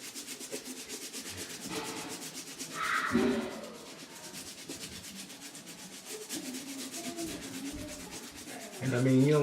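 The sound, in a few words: scrubbing sneaker soles clean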